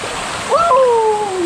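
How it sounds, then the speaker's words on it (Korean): Turtle Falls, a waterfall in a mountain valley among the Twelve Falls of Geumsan, South Chungcheong, in summer: a constant rush of falling water fills the background while a nearby voice exclaims over it. "여기가 거북폭포인데요"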